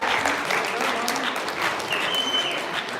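Audience applause for a band at a live music event, a dense burst of crowd clapping heard up close throughout.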